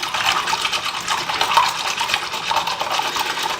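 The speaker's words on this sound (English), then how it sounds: "I'm going to take a whisk and I'm going to whisk this all together really well" A wire whisk beats eggs and vanilla together in a bowl for a blueberry loaf batter, giving a steady fast clicking and sloshing swirl, close and even throughout with no talking.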